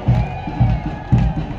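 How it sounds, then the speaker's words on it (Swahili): Congregation at a Pentecostal cathedral dedication service in Nanyuki cheering and ululating in three rhythmic swells, close and lively, with crowd voices mixed through. "Tuendelee kufanya shangwe kidogo."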